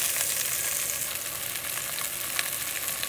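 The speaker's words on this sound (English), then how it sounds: "you want to stir this a little bit, sort of keep it moving around in there" Dried bay leaf, garlic cloves and fresh sage sizzle in a pan with a constant bright hiss, broken by a few soft stirring scrapes.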